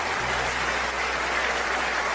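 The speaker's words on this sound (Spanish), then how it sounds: "Alguien tiene que adorar más que eso con un aplauso." A church congregation claps in worship, a dense, loud, continuous wall of applause from many hands sustained throughout, with a low hum underneath.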